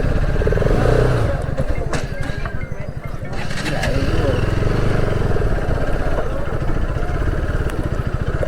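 A motorcycle ridden between Gandhinagar and Sabli keeps up a loud, steady, pulsing engine drone throughout, with voices talking over it.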